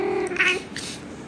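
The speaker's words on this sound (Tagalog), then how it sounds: "Inhit po ang aking pusa. Siya po ay naglalandi." A female cat in heat gives a short, nasal meow that rises and falls, close and fairly loud, with no talking over it.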